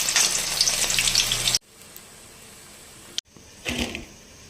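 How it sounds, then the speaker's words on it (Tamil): Loud, crackling sizzle of cauliflower deep frying in hot oil for gobi manchurian, cutting off abruptly, followed by quieter bubbling and a few sharp clinks. "எண்ணெய் நல்லா கொதிக்க வச்சு தான் இதில் சேர்த்துக்கணும்"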